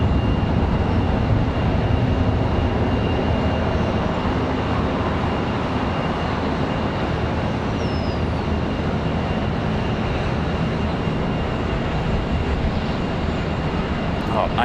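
An airliner taxis across a runway at Charlotte Douglas International Airport. A steady, moderate engine rumble and whine fill the scene, with a broad, even roar and breeze noise in the background.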